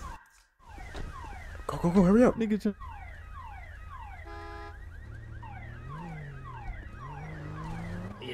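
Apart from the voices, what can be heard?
police siren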